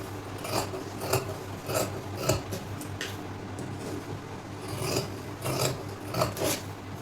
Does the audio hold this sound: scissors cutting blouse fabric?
yes